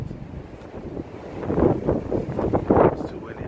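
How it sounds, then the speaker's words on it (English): Gusty wind buffeting a microphone, rumbling low and swelling in bursts, with possible muffled talk underneath. "it's too windy out here."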